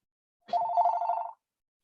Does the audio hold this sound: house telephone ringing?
yes